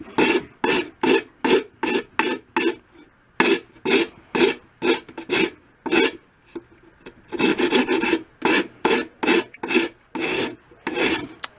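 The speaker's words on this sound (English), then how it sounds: "So I'm rolling the file" A hand file rasps across the bearing edge of an RB Gretsch drum shell in steady, evenly spaced strokes, about two per second. Each stroke is close and distinct, with one brief pause partway through.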